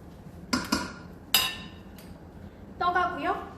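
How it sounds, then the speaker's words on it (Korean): Chicken wing tteokbokki with gochujang being stirred in an Amway Queen pot, with a few sharp metallic clinks and scrapes of a utensil against the pot coming in separate bursts, close and fairly loud. "갖다 넣고 섞어주세요"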